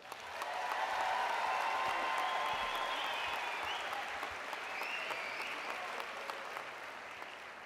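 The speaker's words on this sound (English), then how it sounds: "Please give your graduates a great hand of applause." Audience applause for graduates at a spring college convocation, a sustained wash of clapping from a large crowd that swells quickly and holds steady, fading slightly toward the end with no talk over it.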